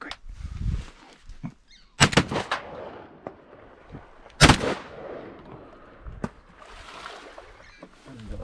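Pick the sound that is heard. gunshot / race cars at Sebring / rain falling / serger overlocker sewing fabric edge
gunshot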